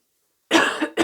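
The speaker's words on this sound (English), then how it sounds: "I have a bad cough" A single harsh cough bursts out after a moment of silence, followed quickly by the start of a second cough, close and loud.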